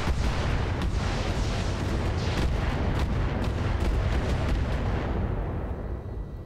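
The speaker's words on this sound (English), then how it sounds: "That's a lot of missiles." Many missiles launch at once in a video game battle, a dense, continuous roar of rocket fire with repeated bursts layered over it, loud and sustained before tapering off near the end.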